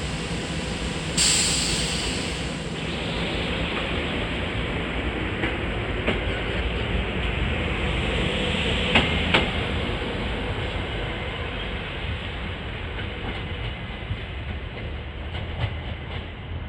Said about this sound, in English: this train's headed for Media and Wawa. This is train 5347 at 4:18.